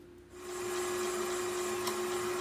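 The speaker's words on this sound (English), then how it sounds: "since I have a sheeter, I'm going to go ahead and use it to create a circular piece of dough" A dough sheeter starts up and runs while rolling out pastry dough for Cornish pasties. After a quiet start, a steady motorized whine hums evenly and close, with no talking.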